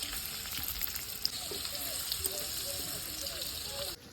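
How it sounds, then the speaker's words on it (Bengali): Whole garam masala and bay leaves sizzling in hot oil left over from frying fish in a kadai, giving a steady, moderately quiet crackle heard up close without talk. "সবার প্রথমে আমি দিয়ে দেবো গোটা গরম মশলা তেজপাতা"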